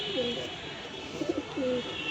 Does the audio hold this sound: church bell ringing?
no